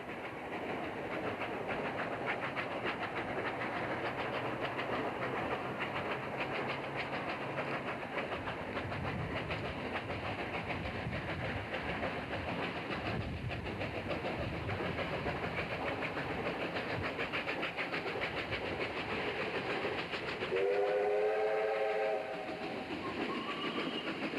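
Flying Scotsman steam locomotive and Victorian broad-gauge R761 steam locomotive running together through country Victoria, Australia: steady rumble and rail clatter throughout, with a loud steam whistle blast near the end.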